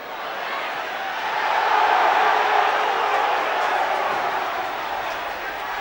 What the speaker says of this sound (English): It's raised the crowd again though, John.